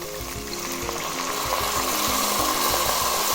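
Wine hits a hot pan for deglazing while making spaghetti sauce, setting off a loud, close, continuous sizzle with a rhythmic low thumping of stirring beneath it.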